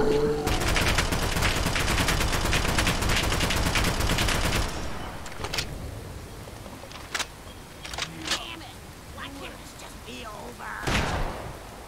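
Dense, loud automatic gunfire in Fallout 4 rattles nonstop for several seconds, then breaks into scattered single shots and thuds, with a voice speaking over parts of it.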